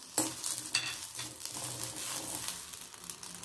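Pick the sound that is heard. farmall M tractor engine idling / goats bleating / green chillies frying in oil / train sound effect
green chillies frying in oil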